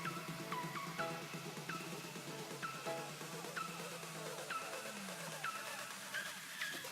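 Faint electric motor of a small homemade robot spinning in reverse, giving repeated short rising whines and a thin buzzing hum, quiet and close, with no talking.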